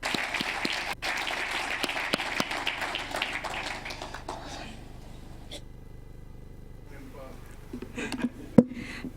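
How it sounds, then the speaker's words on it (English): An audience at a poetry event gives a poet a warm round of applause, with dense clapping for about four seconds that thins to a few scattered claps and quiet room noise. "Let's give her a round of applause."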